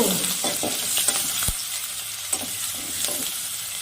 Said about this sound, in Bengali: তেলটা আমার গরম হয়ে গেছে, এবার থেতো করা রসুনটা তেলের মধ্যে দিয়ে দিলাম